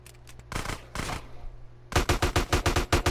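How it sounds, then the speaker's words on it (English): Shotgun blasts in GTA San Andreas: after a few scattered shots early on, a rapid run of about eight loud, evenly spaced booming bursts fills the second half. "That shotgun did a lot of fucking damage."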